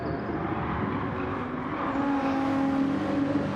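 Race car engine droning steadily at Monza in Gran Turismo 7, a loud continuous hum with a rising tone as the car accelerates out of a corner, no talk.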